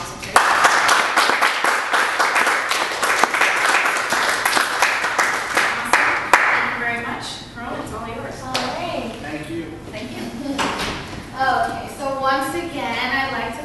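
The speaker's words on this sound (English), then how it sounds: "I just want to give yourselves a big round of applause because you guys were awesome today." Workshop audience clapping at the close of a session, a dense burst of applause that tapers after several seconds into scattered claps under people talking.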